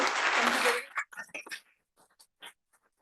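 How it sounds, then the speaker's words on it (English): A meetup audience applauds the moderator with a brief burst of dense clapping that cuts off within a second, followed by scattered quiet voices and isolated claps. "a round of applause to David for moderating despite his jet lag and traveling today"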